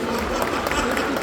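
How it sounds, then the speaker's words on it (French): Audience applause at a Japan Châteauroux 2025 event, loud, steady, dense clapping from a crowd for prize winners, continuous through the short moment. "on les applaudit bien fort"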